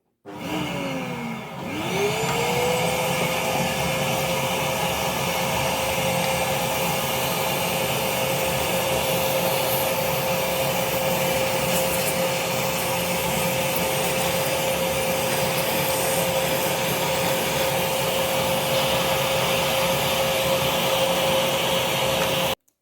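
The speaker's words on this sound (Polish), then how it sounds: "także nastawiam odkurzacz i, i do dzieła" A vacuum cleaner starts up, spins up to full speed and then runs steadily and loudly at close range while cleaning a Brother knitting machine, with its steady whine holding until it shuts off at the end.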